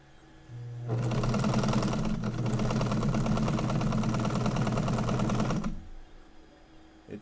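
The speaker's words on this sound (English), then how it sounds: "It's sewing." A sewing machine stitches a laptop workspace bag in one continuous burst of about five seconds, a loud, close, rapid mechanical chatter that begins and ends abruptly, with no voices.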